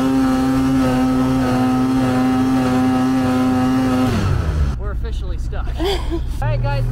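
A snowmobile engine holds a loud, steady roar on throttle in the snow, then drops away to an idle as a person starts speaking near the end.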